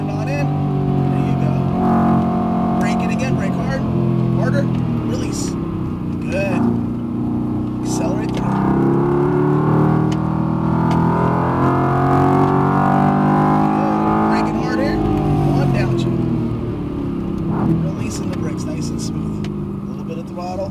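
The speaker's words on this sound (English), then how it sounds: "Overtake the SUV on the right. Go to overtake him on the right. Accelerate." A Mercedes-AMG GT R engine drones and builds steadily under acceleration during an overtake, a continuous loud tone heard from inside the car while a driving instructor talks throughout.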